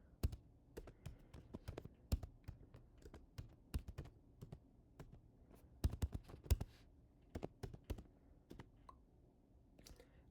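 Someone types on a computer keyboard, giving irregular bursts of sharp, close key clicks with short pauses between them, and no one speaks.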